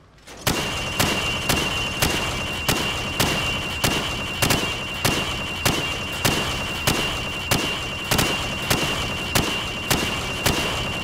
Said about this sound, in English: Shoot the targets through the wood.